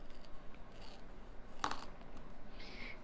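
A kitchen knife pushes down into a vegetable to score it after the stem is cut off, giving one short, crisp cutting crunch partway through against a quiet room.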